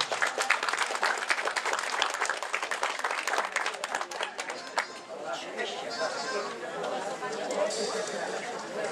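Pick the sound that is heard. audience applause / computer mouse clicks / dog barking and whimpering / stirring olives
audience applause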